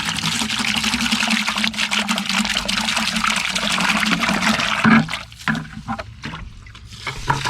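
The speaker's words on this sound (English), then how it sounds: "So let's just get some water in here" Water pours steadily into a bucket with a loud, continuous rushing splash, then breaks into shorter, uneven gushes and drips near the end.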